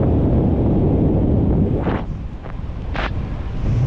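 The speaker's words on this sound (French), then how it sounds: "Parce que le vent augmente tout le temps, là." Strong wind buffets the microphone in a loud, continuous roar, with a brief dip in intensity midway before it swells again, out on the water while windsurfing.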